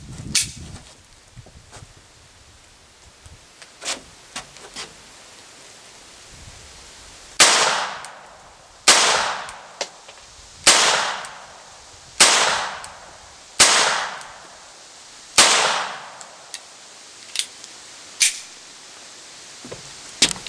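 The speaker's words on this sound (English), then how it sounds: "we've got 6 rounds of CCI high velocity 22 shorts. Load her up and give her a try." Vostok Margolin .22 Short target pistol firing CCI high-velocity rounds, six sharp loud cracks spaced about a second and a half apart, with lighter clicks of handling before and between them.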